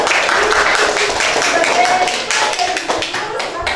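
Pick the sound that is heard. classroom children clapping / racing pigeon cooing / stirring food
classroom children clapping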